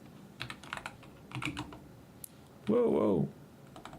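Fast typing on a computer keyboard while working with the .NET SDK, close bursts of clicky keystrokes with brief pauses, and a voice exclaiming briefly over the keys.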